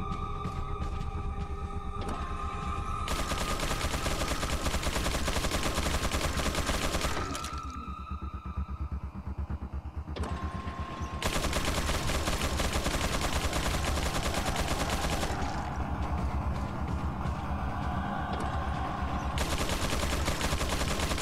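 Rapid, dense gunfire in the video game Resident Evil 4, loud and continuous in sustained bursts with brief lulls, one longer pause midway before the shooting resumes.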